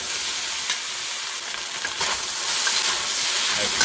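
Beef stir-fries in a hot wok at a restaurant kitchen, a bright, steady sizzling hiss that swells slightly toward the end, with faint scraping of the wok under a constant steam-like roar and no speech.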